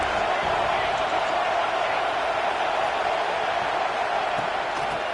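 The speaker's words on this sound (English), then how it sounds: "how nice is it to have the home crowd going absolutely bananas?" Steady, dense roar of a home stadium crowd cheering in the College Football 26 video game, loud and continuous with no pauses, voices blended into a wash.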